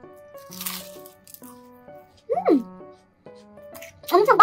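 A few crisp crunching bites of a flaky pastry s'mores doughnut, brief and close, between stretches of someone talking.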